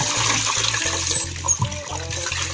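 Water runs steadily from a tap in a loud, continuous splash, with a faint rhythmic thump of neighbors' music underneath.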